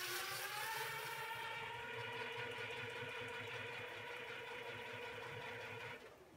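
Schwinn bicycle wheels spin on an electric hub motor during a resistance test, giving a steady, close mechanical whir with an even tonal hum that holds constant before dropping off near the end.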